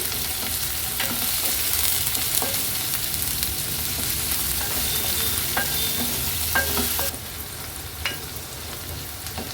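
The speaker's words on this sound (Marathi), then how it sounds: "कांदा पण छान आपल्याला शिजवून घ्यायचा आहे कांदा शिजवताना गॅसची फ्लेम मी वर करते" Onion and green chilies cook in a pan over a high gas flame, a loud, dense, continuous sizzle with scattered utensil clicks and scrapes, heard close up and alone, easing slightly toward the end.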